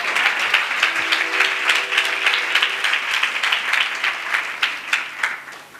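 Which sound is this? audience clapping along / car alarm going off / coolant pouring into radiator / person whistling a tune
audience clapping along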